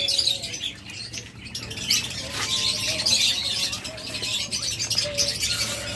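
King quail birds in a sale pen give repeated high chirps and squawks, with a low steady hum from the setting underneath.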